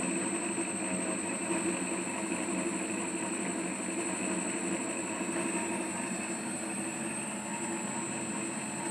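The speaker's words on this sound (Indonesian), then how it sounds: "Di sini dapat kita lihat bahwa RPM dari motor bertambah." A prototype PTO (power take-off) generator motor runs with a constant droning hum and a steady whine throughout.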